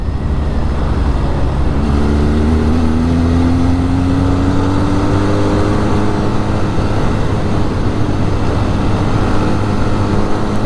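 A Benelli TRX 502 motorcycle cruising with a steady engine drone and wind rush, its pitch climbing slightly through a gear as it rides, continuous and close with no talking.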